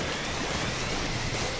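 Rain clouds special in the Splatoon 2 video game, heard as a steady, dense rain-like hiss that stays even and unbroken throughout, with no talk over it.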